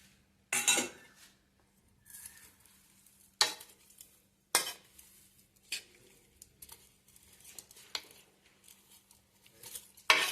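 A utensil scrapes and stirs a pickle of sajan (drumstick) pods with sugar in a kadai, giving scattered clanks and scrapes with a low hum beneath.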